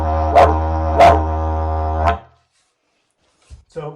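A didgeridoo voices an imitation of a wild dingo barking, giving three loud, droning bark-like bursts over a steady low drone, then falling silent before faint sounds return.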